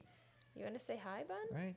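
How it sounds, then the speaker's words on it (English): A house cat meows several times in a chatty, drawn-out run, close and fairly loud, with a person speaking to it at the same time. "He's the most vocal cat you'll ever meet."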